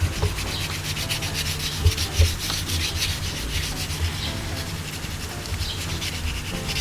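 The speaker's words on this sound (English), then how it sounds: "really important that you do a pretty thorough job of sanding on each grit" Steady, rhythmic sanding: sandpaper rubbed back and forth across soapstone in continuous strokes, close and fairly loud, with no voices.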